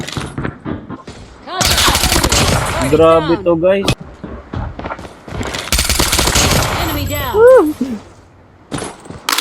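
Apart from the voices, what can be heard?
gunfire in a video game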